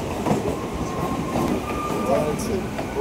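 A crowded passenger train runs near Sheoraphuli station on the way to Tarakeswar. Its continuous rumble and rattling wheels fill the space close by, with faint murmuring voices in the background.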